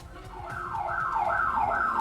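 A house alarm triggered and picked up by a doorbell camera wails in a rising and falling siren pattern, growing louder over a couple of seconds with no talking.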